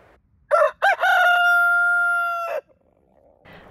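A New Hampshire Red rooster crows once, close and loud, with a couple of short rising notes leading into a long sustained call that cuts off abruptly, followed by faint stirring.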